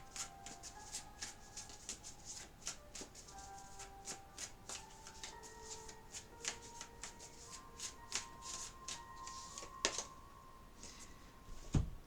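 Tarot cards shuffled by hand in a quiet room, a long run of soft riffling flicks and taps, close and fairly faint, with no speech.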